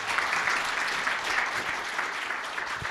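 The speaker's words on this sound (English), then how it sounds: "Round of applause" An audience at a business media awards event claps steadily after a presentation, a dense, even roar of many hands that continues for the whole stretch.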